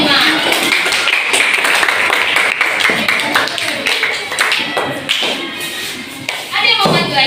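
A classroom at an elementary school in Pekanbaru claps for group 5, a dense burst of many hands slapping together with chatter mixed in, holding steady for several seconds before swelling again at the end.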